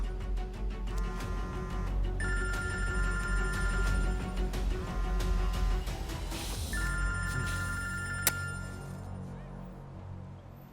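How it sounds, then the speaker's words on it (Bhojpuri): A telephone bell rings in repeated bursts of bright electronic tones, steady and moderately loud over a constant low background hum, with a single sharp click near the end. "तुहार फोन के घंटी बजाता, उठावा।"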